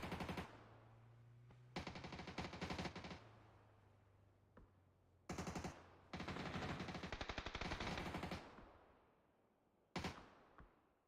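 Machine-gun fire from the PUBG video game comes in several long, loud automatic bursts separated by brief pauses, each volley a rapid, dense rattle of shots with no talking.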